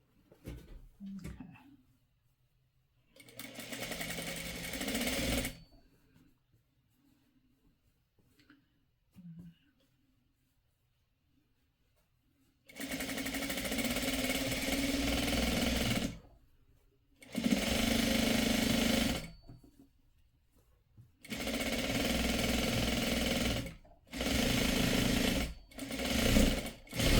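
A sewing machine stitches a pre-cut quilt block, running in loud steady whirring bursts of a few seconds each, separated by pauses with small handling clicks, close up.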